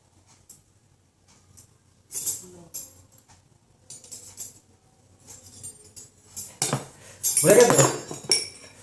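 Metal spoons are picked up and clink together on a table during a four-spoon puzzle game, scattered sharp clatters and scrapes growing busier toward the end, with faint talk nearby.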